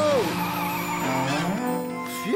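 Toy little red tractor brakes to a sudden stop, a loud sliding squeal with falling and rising pitch sweeps over a continuous engine drone, close and without talk.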